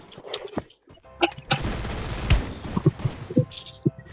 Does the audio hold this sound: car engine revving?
no